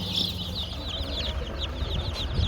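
Many small high-pitched cheeps overlap continuously from a group of three-day-old chicks at a market, close and steady, with a low background rumble underneath.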